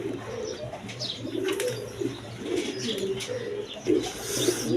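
Several Giribaz pigeons in a breeder's loft coo in soft, repeated low phrases close by, with light chirps and a brief rustle of movement mixed in and no talking.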